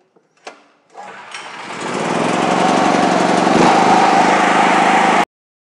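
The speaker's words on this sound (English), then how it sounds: "I am now going to start the machine." An electric-start petrol generator fires up after a short click, then settles into a loud, steady running drone that holds for several seconds before cutting off abruptly.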